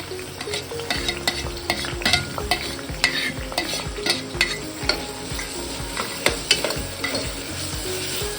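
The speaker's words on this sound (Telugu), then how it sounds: "చిల్లీస్ కొంచెం లైట్గా ఆయిల్లో పట్ పట్ అంటే చాలు నెక్స్ట్ ఆనియన్స్ వేసేసుకుంటున్నాను" Sliced onions with chilies frying in oil for an Andhra-style tomato mutton curry, a close, loud sizzle with frequent rhythmic spatula scrapes and clacks against the pan throughout.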